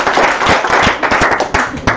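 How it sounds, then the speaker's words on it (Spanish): An audience claps together at a talk event, a steady burst of many hands with a few louder individual claps standing out, fairly close and lively. "este es el aplauso para todos, por favor."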